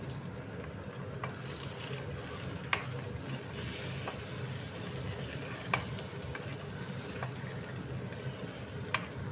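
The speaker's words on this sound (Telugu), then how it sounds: "వేసి ఈ విధంగా ఫ్రై చేస్తున్నాను ఫ్రెండ్స్" Masala eggs fry in oil with chili powder, giving a steady, even sizzle with a few faint stirring clicks. No one speaks.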